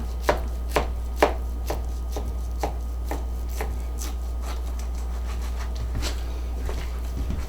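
A knife slices steaks about three-quarters of an inch thick from raw meat on a board, making crisp, close chopping strokes in an uneven rhythm, several sharp at the start, then lighter and scattered over a low steady hum.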